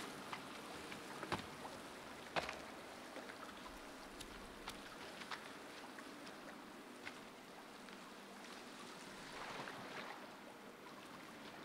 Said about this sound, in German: Hier ist ein Wasserfall.